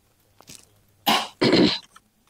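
Two harsh, close coughs in quick succession follow a faint earlier throat sound, caused by styrofoam dust, then quiet.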